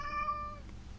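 A pet cat gives a single close meow, a bright harmonic cry lasting about half a second before trailing off into quiet room tone.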